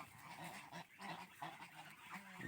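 A flock of raja ducks heading into a pond quack and honk over and over in a loose, overlapping rhythm, faint and somewhat distant with no voices.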